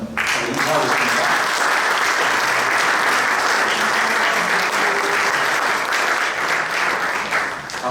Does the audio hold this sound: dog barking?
no